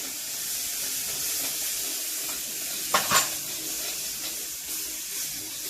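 Paneer and vegetables sizzling and being stirred in a kadai for kadai paneer, a steady hissing fry with a brief louder scrape of the spoon partway through.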